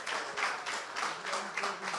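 Steady, moderately faint applause from an audience at an after-work gathering, with a dense, continuous patter of hands and gentle swells, no talk over it.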